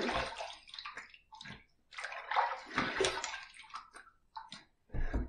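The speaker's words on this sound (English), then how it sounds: "first pass done. Let's rinse." Water splashing and sloshing as a face is rinsed after a shave, in irregular close bursts separated by short pauses.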